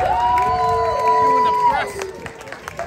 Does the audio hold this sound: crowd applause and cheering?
yes